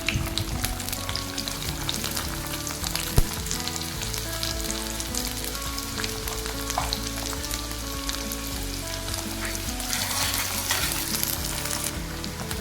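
Chopped onion pieces sizzle loudly in hot oil in a pan with seasoning spices, a dense continuous frying hiss close up with occasional stirring clinks.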